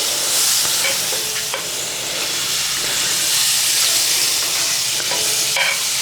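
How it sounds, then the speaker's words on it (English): Steady, loud sizzling of about half a tablespoon of butter in a hot pan, a continuous crackling hiss that fills the whole stretch with faint clinks from a utensil. "Listen to that sizzle."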